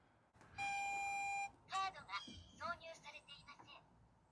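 A 1993 Toyota Land Cruiser HZJ77 reverse warning beeper holds a steady electronic tone for about a second, followed by short chirping tones and someone speaking over them.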